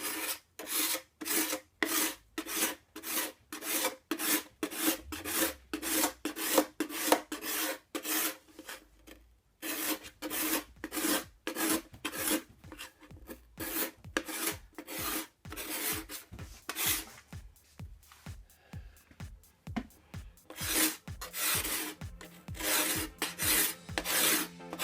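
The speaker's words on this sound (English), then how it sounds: "why am I attacking it with a cabinet scraper or a card scraper rather than just going out with a sander?" A cabinet or card scraper strips a polyurethane-like finish off an oak cabinet in steady, rhythmic rasping strokes. The close scraping repeats rapidly for the whole stretch, with a short slower passage midway, and no voices.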